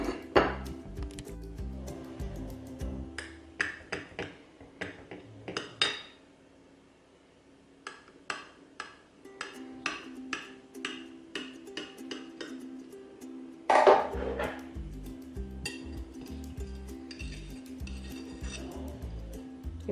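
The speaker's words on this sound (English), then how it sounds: "So let's cut into it and try a piece." A utensil taps and scrapes against a plate while cutting into a no-bake coconut flan, with repeated sharp clinks in irregular bursts, a quiet pause, then more clatter and one louder knock.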